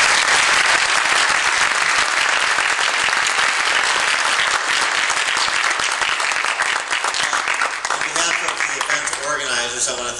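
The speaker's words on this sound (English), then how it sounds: "Let's please give another round of applause to both our panelists as well as these three gentlemen" Sustained applause from a debate audience fills the room, dense and loud clapping throughout, fading slightly near the end.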